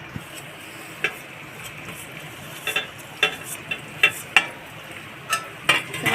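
A spoon stirs paneer chilli with spices and salt in a pan, scraping and clinking at an irregular pace over a steady low sizzle, close and clear, with no talking.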